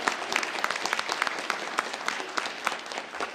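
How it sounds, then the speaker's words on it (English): Sustained applause from an audience at a national high school economics competition, honoring visiting student competitors from China; dense, steady clapping throughout with no voices over it. "we want to have a special round of applause for our guests from China who came and competed very well"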